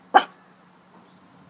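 A puppy lets out a single short, sharp bark near the start, close and fairly loud, followed by quiet room tone with a faint steady hum.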